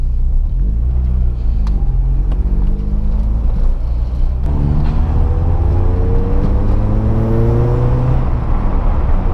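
A warmed-up Renault Clio 16 engine, under service for a fault, runs loud and close with steady rumble and rising revs that climb and fall in repeated sweeps, no talk over it.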